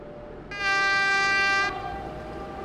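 A train horn sounds as a regional train departs Salzburg toward Schwarzach-St. Veit, one steady loud blast of about a second over low rolling rail noise, with no talking.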